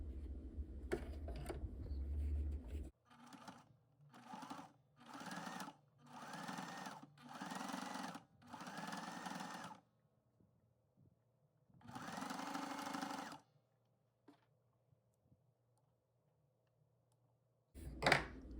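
A sewing machine stitching cotton jelly roll rug strips with batting runs in a series of short rhythmic bursts, then a longer run after a pause, with a quiet stretch and a brief final burst.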